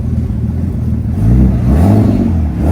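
A Nissan Skyline R33 engine revving close by, its loud low drone rising in pitch in one short, smooth surge and then holding steady, with no talking.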